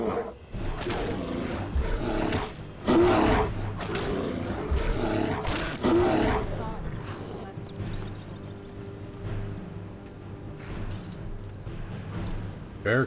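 A bear roars in modded Skyrim, with loud, rough growling bursts repeating over several seconds against a low rumbling ambience, then quieter fading grunts.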